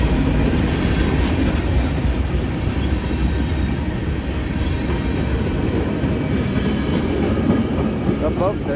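A freight train rolls past near a railroad crossing in Tennessee, a dense rumbling clatter of wheels and cars that stays loud and steady throughout.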